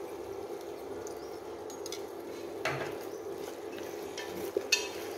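Coconut water spooned into a simmering vegetarian curry of banana and tofu, then stirred, giving a soft splash and a few clinks and scrapes of a utensil against the pot over a low simmering hiss.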